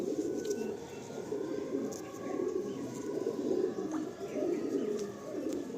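A male pigeon at a pigeon sale coos in low, throaty, repeated rolls, steady and close, with faint background chatter and scattered bird chirps.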